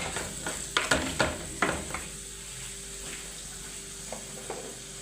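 Chopped tomatoes go into a pan of softened onions, setting off a burst of sharp clatters and splashy sizzling that settles into a low steady frying hiss with a few soft knocks, close up and without speech.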